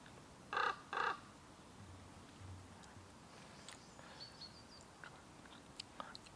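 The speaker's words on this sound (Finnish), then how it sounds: "Tuli korppi tohon edessä oleva sähköpylvää huippuun." A common raven on top of a power pole gives two loud, harsh caws in quick succession near the start, followed by faint outdoor background sounds.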